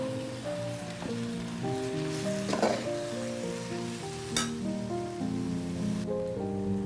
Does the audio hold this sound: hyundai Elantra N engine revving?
no